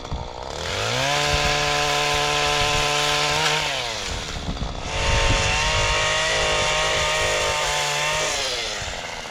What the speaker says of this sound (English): So that's a little strimmer that I use to do that job.